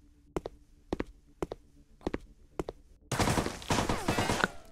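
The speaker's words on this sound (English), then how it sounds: "Who's shooting?" Gunfire in a VR shooting game: five single sharp shots spaced about half a second apart, then a dense, loud burst of rapid overlapping fire.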